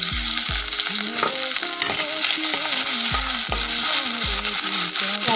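Ginger garlic paste frying in a pan, a loud continuous sizzle with repeated scraping stir strokes, close by and with no talking.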